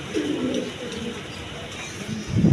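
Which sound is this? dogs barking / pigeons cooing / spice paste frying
pigeons cooing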